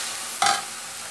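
Tomatoes sautéed with salt and turmeric for a soy dish give a steady low sizzle, with one short, louder stirring scrape partway through.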